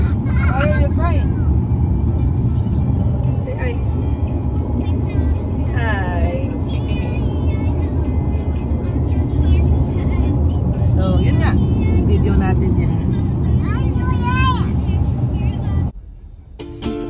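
A family car cruises steadily into a wildlife park in Glen Rose, Texas, its road noise a continuous low hum beneath lively talk and a voice, cutting off abruptly near the end.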